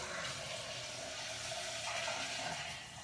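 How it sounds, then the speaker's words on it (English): Water runs steadily into a Milton travel steriliser container holding a baby bottle, a soft continuous gushing fill heard close and alone, tapering slightly at the end. "fill with water"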